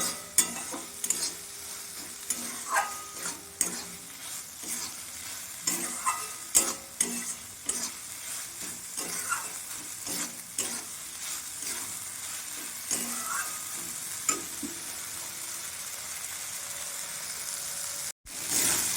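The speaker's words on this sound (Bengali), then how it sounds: "মসুর ডাল আলু মশলা সব একসাথে আমি আবারও কষিয়ে নিচ্ছি।" Masoor dal, potatoes and spices are stir-fried together in a pan, giving a continuous soft sizzle under frequent scraping and stirring strokes, with a brief dropout near the end.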